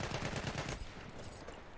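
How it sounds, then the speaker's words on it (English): Rapid bursts of shotgun fire in the video game Battlefield 1, a dense string of loud blasts for almost a second, then fainter scattered gunfire and battle noise. "Oh, these shotguns."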